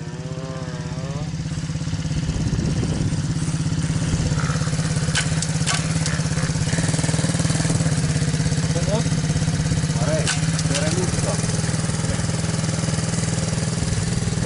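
MRF80 pit bike motorcycle engine at a large gravel pit, revving and buzzing loudly and continuously with rising and falling throttle sweeps, while people talk and shout nearby.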